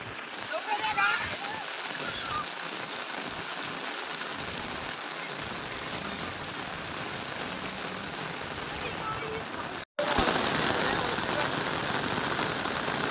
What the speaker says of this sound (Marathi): पाणी तर धबधबा आपल्या ब्रिजवर वाहून चाललंय